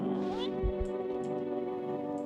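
A cat meows in a video game, a single drawn-out mew near the start over a steady tonal hum, followed by a couple of soft thumps.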